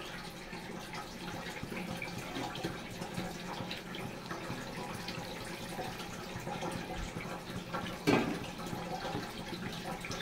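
Water goes into a simmering fish curry with bori, beans and potatoes, a faint steady watery wash and bubbling with one brief clink near the end.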